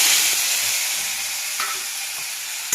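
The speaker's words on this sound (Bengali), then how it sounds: "এবার আমি কড়াইয়ে তেল দিয়ে দিয়েছি, দিয়ে দেবো কেটে রাখা টমেটো আর লঙ্কা।" Chopped tomatoes and chillies go into hot oil in a wok and fry with a close, steady sizzle and hiss, broken by a few soft stirring taps.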